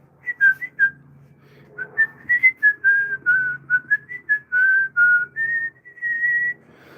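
A trained bird whistles and mimics in a string of clear, bright tonal phrases, some short chirps and some long sustained notes, loud and close with brief pauses between.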